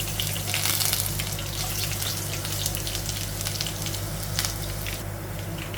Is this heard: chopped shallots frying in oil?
yes